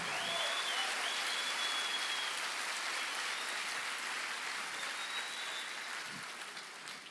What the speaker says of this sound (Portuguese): Vai, vamos aplaudir melhor isso aí